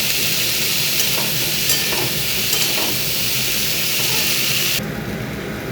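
Cauliflower florets fry in a pan with oil, salt and turmeric, giving a loud, steady broadband sizzle throughout with a few stirring scrapes and clinks, and the hiss drops slightly near the end.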